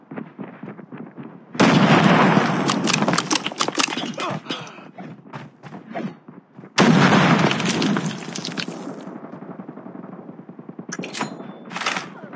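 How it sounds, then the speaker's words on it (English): In a Call of Duty match, two loud, booming Predator missile explosions hit about five seconds apart, each followed by rumbling debris and scattered gunfire, with game voice chatter in between. "Hostile Predator missile inbound."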